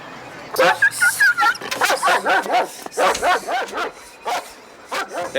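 A dog barks repeatedly from inside a parked car, the sharp yaps coming in a steady run of bursts with people's voices around it.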